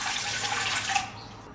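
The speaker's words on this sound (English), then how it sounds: "First I'm gonna be adding in 270 ml of warm water." Warm water runs from a tap into a mixing bowl for bun dough, a loud, close, steady gush that cuts off about a second in.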